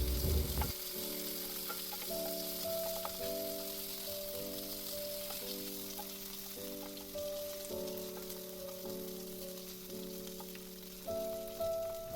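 Garlic, curry leaves and a spice paste fry in hot oil with a steady, crackling sizzle that runs throughout, close and fairly quiet, with a soft melodic tune playing underneath.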